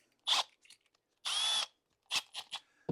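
Short bursts of a power drill boring through holes in a golf cart body panel: a brief whine, a longer steady one, then several quick clipped pulses, close and clear against a quiet background.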